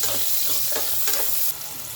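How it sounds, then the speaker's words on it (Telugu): Onions frying in a pan for ivy gourd fry, sizzling steadily with a few stirring scrapes, close and continuous, no talk. "ఇప్పుడు ఉల్లిగడ్డ వేసుకుందామమ్మా. లైట్గా బ్రౌన్ కావాలి."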